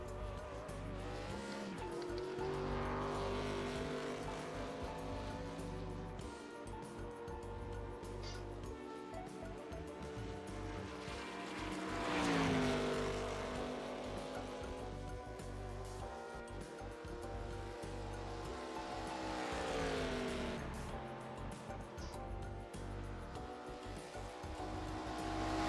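A race car on a qualifying lap at Kentucky in the iRacing simulator, its engine droning steadily with rising and falling pitch through gear changes and corners, tires squealing now and then, loud and constant.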